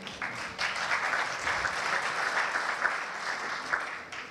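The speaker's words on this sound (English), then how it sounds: "You can applaud if you'd like." Audience applause at a software presentation, a steady patter of many hands clapping at moderate volume for a few seconds before thinning out.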